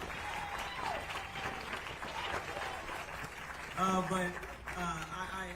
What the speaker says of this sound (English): Give a round of applause for Miss Helen Tolan.